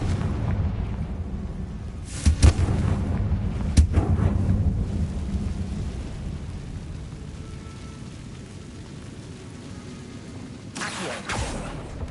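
In a Harry Potter video game, a Confringo spell explodes in a few sharp booms a couple of seconds apart, each followed by a low rumbling tail over a steady ambient drone.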